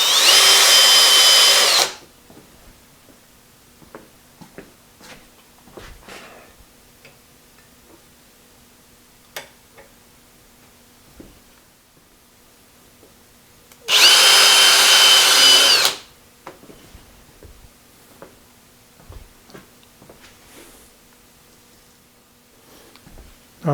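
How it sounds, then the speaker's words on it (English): Two separate bursts of a power drill whirring loudly for about two seconds each, drilling clearance holes in a metal plate for a Hardinge turret tailstock, with quiet clicks and small handling noises in between. "I'm a little concerned about drilling in this"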